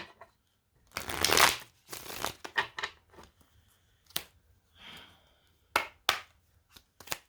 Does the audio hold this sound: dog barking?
no